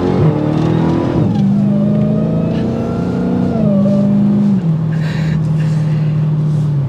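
A 2023 Dodge Challenger Hellcat pulls away from a stop in the road, its supercharged engine droning loud and steady with rising then shifting tones, heard from inside with no talk.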